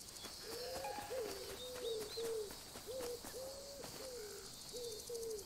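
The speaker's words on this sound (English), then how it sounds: "Common wood pigeon." Common wood pigeon cooing in the video game Alba: A Wildlife Adventure, a soft rhythmic series of repeated low coos over gentle outdoor ambience.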